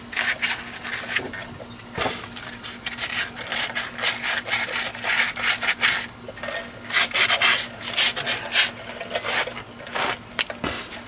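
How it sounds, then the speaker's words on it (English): 80 grit sandpaper scrubs rust off the wheel hub of a 2001 Chevy Cavalier during a bearing replacement, producing rhythmic, close rasping strokes in uneven bursts over a steady low hum. "take the 80 grit sandpaper and get all that rust off of there"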